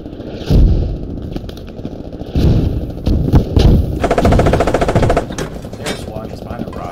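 Rapid machine-gun bursts and heavy gunshots in the military video game Squad during a battle involving a Canadian Leopard tank, loud and close, with a fast rattling stretch midway and voices talking between shots.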